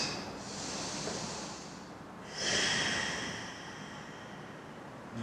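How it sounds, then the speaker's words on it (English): Slow, deep breaths drawn and released by someone seated in yoga meditation, a long soft airy inhale followed by a stronger, rushing exhale, close and steady with no talk. "take a few deep cleansing breaths"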